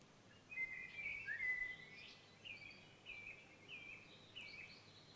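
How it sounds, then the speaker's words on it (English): Birds sing and chirp in a forest, with one nearer whistling call followed by several shorter, fainter phrases over soft background hiss. "Listen to the birds singing."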